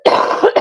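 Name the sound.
cough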